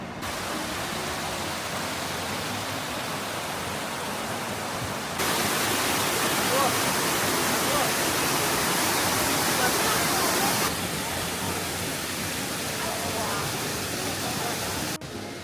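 The roar of Pearl Shoal waterfall at Jiuzhaigou, Sichuan, is heard as a dense, steady rush of water, growing louder partway through and then easing slightly.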